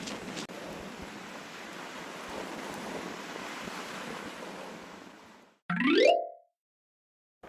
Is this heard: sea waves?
yes